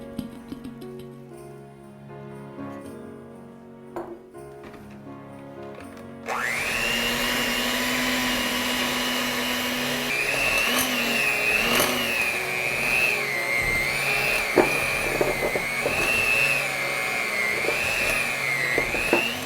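After a quiet start, an electric mixer whirs loudly into cookie dough in a bowl, its motor pitch wavering and rising as it runs on steadily and alone.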